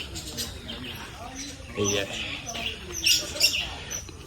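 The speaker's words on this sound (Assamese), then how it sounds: "এয়া ভাটৌ কি সুন্দৰকৈ কিলকিলৰি মাত" Parrots at the Guwahati zoo (Assam State Zoo) give high, bright chirps and short squawks, bursting louder near the end, mixed with people talking nearby.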